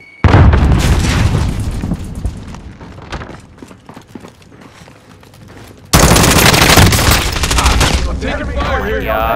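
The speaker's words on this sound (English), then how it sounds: "Throwing grenade." Gunfire and a grenade explosion erupt in a war video game: loud rapid bursts of shots at first, a quieter stretch, then a sudden heavy blast followed by more sustained firing and crackle.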